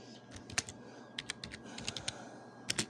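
Text entered on a computer keyboard while designing a T-shirt: irregular clusters of crisp, close key clicks with short pauses between bursts, heard alone without talk.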